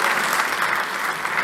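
Brief, dense burst of crowd applause at a festival, loud and continuous with no pauses.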